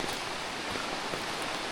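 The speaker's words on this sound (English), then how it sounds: "can't wait for the rain to go away." Rain falling in a forest, a steady dense hiss of drops on leaves and ground, evenly spread and unbroken, heard alone without voices.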